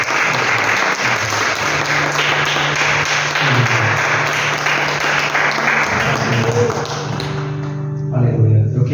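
A church congregation applauds steadily and loudly for several seconds, dense continuous clapping filling the space, with voices and a sustained musical tone underneath, tapering off near the end.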